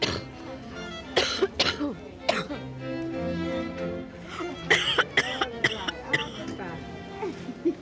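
A person coughs in several sharp, harsh bursts, some clustered together as if choking, amid talking voices in a GP's consulting room.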